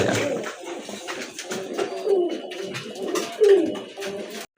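Pigeons, including Kagji pigeons, coo softly and repeatedly, low throaty calls overlapping close by with faint rustling in the background.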